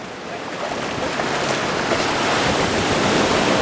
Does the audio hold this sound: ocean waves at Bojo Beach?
yes